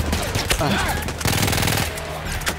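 Machine gun fire in the video game Battlefield 1, rapid bursts of shots rattling loud and close, broken into short volleys amid busy battlefield noise, with a voice briefly heard among the gunfire.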